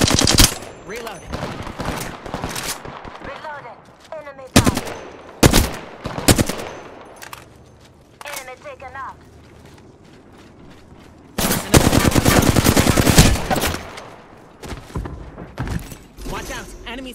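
Gunfire in the shooter game Apex Legends: rapid automatic bursts and single heavy shots at close range, some long sustained volleys, with talking in between.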